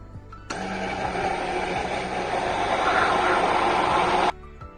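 An immersion blender runs in homemade mayonnaise, switching on abruptly and holding a steady whirring buzz for about four seconds before cutting off sharply, loud and close.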